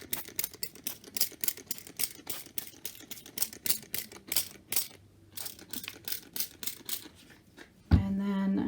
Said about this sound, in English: So I'm spraying the Terreal Magic on.